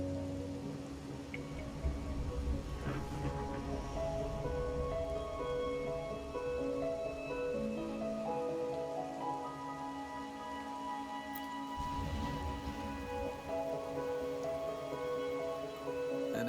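Steady rain falls throughout a Wuthering Waves cutscene, a continuous wash of drops pattering on surfaces under a sustained musical score, with no voices present.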